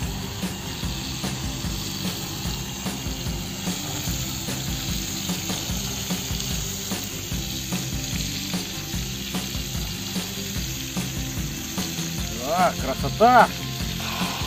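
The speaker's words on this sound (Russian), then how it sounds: "Вот так оно жарится у нас." Potatoes, pork and onion sizzle steadily in a covered pan over a campfire, a constant close frying hiss with faint clinks near the end and a brief spoken exclamation.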